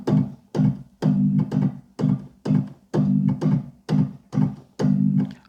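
Reggae organ shuffle played with left-hand chops in a three-short, one-long pattern, a steady repeating rhythm of clipped chords with a longer held chord closing each group, close and clear with no talking.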